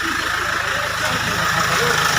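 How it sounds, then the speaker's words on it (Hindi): A Mahindra XUV500 engine idles just after starting, a steady low rhythmic throb heard near the engine bay while someone talks over it. "इंजन का आवाज़ सुन सकते हैं, स्टार्ट हो गया दोस्तों"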